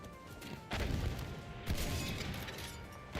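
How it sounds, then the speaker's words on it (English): Two heavy booming explosions in the Battlefield 1 multiplayer game, the first at about three-quarters of a second and the second near the middle, each a broad loud blast with a rumbling tail over continuous battle noise. "Sounds like the explosion's happening like here."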